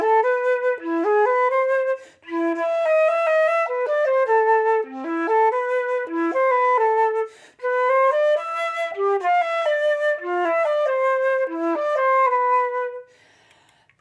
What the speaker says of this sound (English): I'll play you a bit of Fur Elise so you can hear it